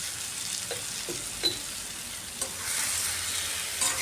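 Potatoes and squash with spices sauté in a pan, giving a soft continuous sizzle with a few stirring scrapes and taps. The frying swells slightly louder toward the end.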